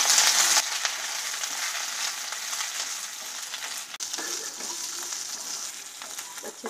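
Square-cut capsicum and onion stir-fried and tossed in a pan for chilli paneer, a loud close sizzle with scraping stirs, a brief sharp clatter near the start, then the frying hiss running steadily.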